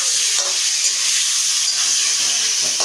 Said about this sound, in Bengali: এর মধ্যেই আলু ভাজা হয়ে গেল।